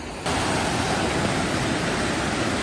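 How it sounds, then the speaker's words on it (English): A mountain stream rushing down a slope between Nevada Falls and Vernal Falls, a steady broadband roar of flowing water that starts abruptly and holds constant and close throughout. "Got this long stream that's like a downward slope that comes from Nevada Falls"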